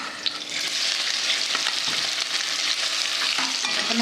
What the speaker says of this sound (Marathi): आपण हा बटाटा चांगला परतून घेऊ।